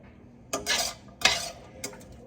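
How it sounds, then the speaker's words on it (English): A spatula scrapes and clatters against a pan while breaking up shredded hash browns, with three distinct bursts of metallic scraping at a close, moderate level. "once I finish breaking this, it's a lot of just more waiting for the hash browns to turn brown"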